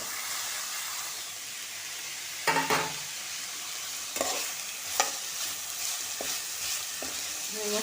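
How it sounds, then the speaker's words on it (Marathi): Wild vine vegetable sautés with onion and a piece of chilli in a pan, a soft steady sizzle broken by several sharp scraping stirs of a spoon against the pan, close and fairly quiet. "कांदा सोबत थोडेसे परतून घ्यायचे एक दोन मिनटं शिजायला द्यायचे"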